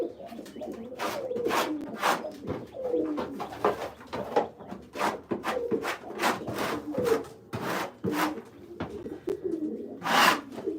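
Pigeon droppings being scraped off wooden surfaces in a loft, a run of repeated rough scraping strokes at close range, with pigeons cooing softly nearby.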